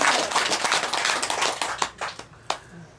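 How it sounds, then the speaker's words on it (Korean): Audience applause at a Korean gathering starts as a full, dense clatter, then thins and fades, leaving a few scattered, distinct claps near the end. "박수 부탁드립니다"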